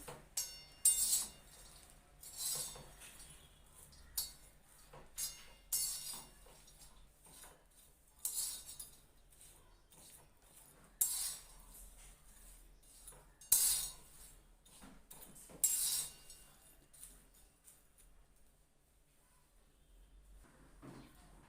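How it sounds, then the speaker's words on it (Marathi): A metal spatula stirs and scrapes small dried fish (sukat) as they roast in a pan, giving intermittent clinks and scrapes in short bursts, close and moderately loud, with no talking. "असं खाली वरती करायची म्हणजे कशी सर्व सुकट आपली चांगली भाजली जाते"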